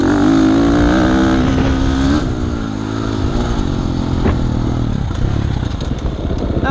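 An off-road motorcycle runs on a dirt race track, its engine loud and close, droning at steady revs before the pitch drops and then picks back up as the throttle changes, with some faint clatter.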